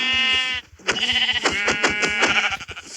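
Sheep in Minecraft bleating repeatedly, a long nasal bleat, a brief pause, then a quick run of overlapping bleats with clicky game sounds, close and clear.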